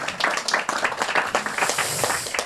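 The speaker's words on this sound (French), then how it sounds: "On peut les applaudir." An audience at a French film screening and meeting with the directors gives brief, lively applause, with scattered individual claps standing out in the crowd at close range.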